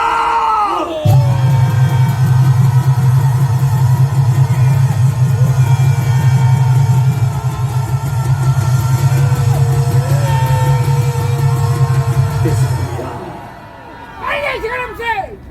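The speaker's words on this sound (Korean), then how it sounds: "함성 10초!" A large outdoor political rally crowd in Seoul roars and shouts together for about twelve seconds, a loud sustained mass of yelling and cheering with a deep hum beneath, then it drops off and scattered voices follow.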